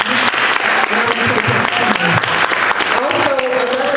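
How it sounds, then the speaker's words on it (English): Loud, sustained audience applause at a high school poetry event, a dense wash of clapping that fills the space without pause for about four seconds. "So let's clap."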